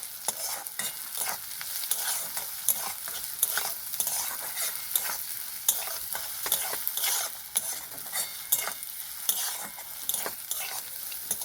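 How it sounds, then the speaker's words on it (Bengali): Stirring and sizzling as green chilies are mixed into a frying mixture for stuffed tomatoes, giving close, steady frying hiss broken by repeated scraping strokes of a spoon in the pan, with no talking. "দিয়ে দেবো কাঁচা লঙ্কা কোচানো আরও একবার ভালো করে মিক্স করে নেবো"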